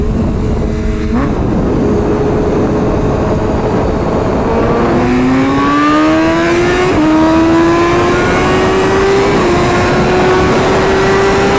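Twin-turbo Corvette and new Porsche GT3 RS sports cars rev their engines loudly, with rising and falling pitch sweeps layered over a steady roar, engines climbing through the revs one after another with no talking.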